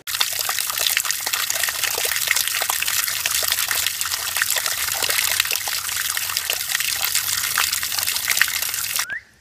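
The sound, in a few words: spring water trickling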